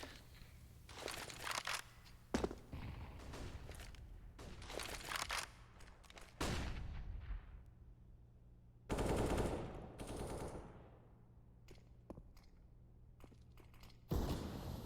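Gunfire in a Counter-Strike match on the Mirage map at a Europe Minor closed qualifier, with repeated bursts of rapid automatic fire and sharp single shots that come and go across the round, separated by quieter stretches.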